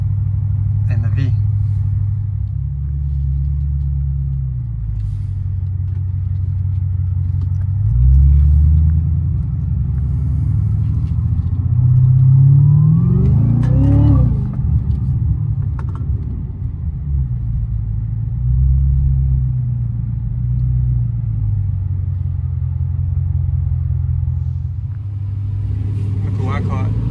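A supercharged Cadillac CTS-V drives downtown, its engine a steady low rumble heard from inside the cabin that swells into a rising rev near the middle before settling back to a cruising drone.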